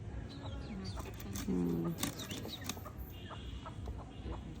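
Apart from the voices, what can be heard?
chickens clucking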